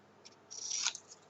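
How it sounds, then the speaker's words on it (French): Scissors cut through a paper tab, a single quick, faint snipping crunch lasting about half a second in an otherwise quiet room, no voices. "Ici, la languette, on la coupe"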